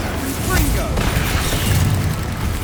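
A Bombarda blasting spell in Hogwarts Legacy erupts in a dense, continuous rumbling boom with crackling debris, loud and close, while a voice shouts over the blast.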